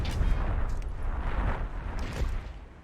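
Explosions from white dwarves' bombs in the fantasy strategy game Myth II: Soulblighter boom and rumble at moderate loudness, several deep bursts overlapping in a continuous roiling blast.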